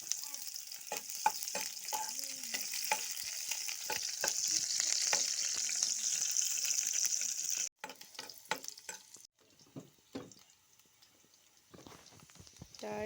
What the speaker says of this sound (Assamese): নহৰু পিঁয়াজ ভাজি আছে